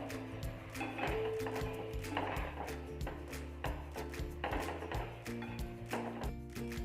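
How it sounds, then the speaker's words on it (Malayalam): A spoon scrapes and taps against a pan as chopped chapati is tossed into noodles, making a steady run of close clinks and knocks with faint background hum. "ഇത് നന്നായിട്ട് തന്നെ മിക്സ് ചെയ്തെടുക്കണം"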